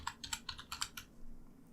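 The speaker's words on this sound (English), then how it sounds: "I'll press enter on my keyboard." Keys clatter on a computer keyboard, about eight quick, close, crisp strokes in a loose rhythm that stop after a second, leaving a quiet room hum.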